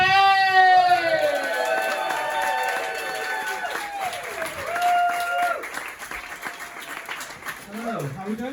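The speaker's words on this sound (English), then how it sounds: "Massive round of applause for Mr." A comedy club audience at a fringe comedy gig in Cambridge claps and cheers loudly for a comedian taking the stage, a sustained round of applause under a host's voice.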